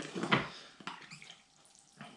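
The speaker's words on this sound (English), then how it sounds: "So we'll give it plenty of water, soak it right through the new fresh bonsai soil that we've got in there" Water poured onto a bonsai tree in fresh bonsai soil, a few soft splashing gushes with quiet gaps between, close and fairly faint, no talking.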